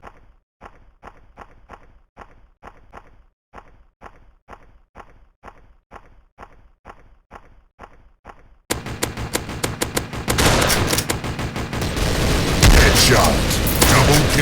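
Shotgun fire in a video game, a steady run of evenly spaced sharp blasts that gives way to a dense, loud barrage of shots and explosions.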